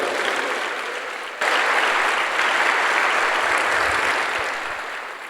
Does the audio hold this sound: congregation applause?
yes